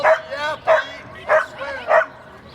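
A small dog yaps four times in quick, evenly spaced bursts, close and loud, with faint whimpering between barks at an outdoor dog show.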